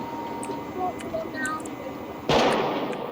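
A turret in the Rust video game fires one sharp, loud gunshot-like burst near the end, after a stretch of quieter in-game ambience with faint background voices.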